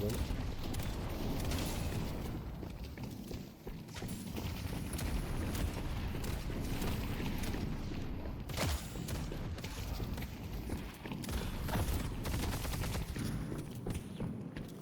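Rapid gunfire from shotgun-like weapons rattles through a frantic video game match, dense bursts of shots overlapping continuously at close range, with a voice talking over the action.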